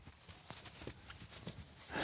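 A Norwegian horse walks nearby, its hooves clip-clopping in a loose, uneven rhythm of soft thuds over quiet background, with a brighter burst of noise at the very end.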